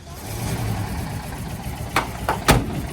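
A 1973 Volkswagen Type 2 panel van engine running, a low idle rumble followed by a few sharp revs or clunks near the end, close by.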